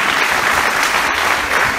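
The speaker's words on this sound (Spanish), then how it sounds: "Alguien aplauda a Jesús porque él vive." A church congregation applauds, a dense steady burst of clapping from many hands, loud and close, with no talk over it.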